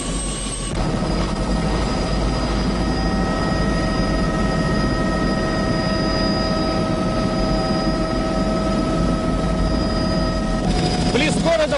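A helicopter flying over naval exercise waters near Portsmouth, a steady loud engine and rotor drone that holds for the whole stretch, with thin whining tones running through it.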